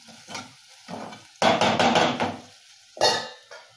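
Ginger, garlic and tomato fry in a pan, giving soft sizzling broken by a few quick bursts of stirring and spoon-on-pan clatter, close and moderately loud.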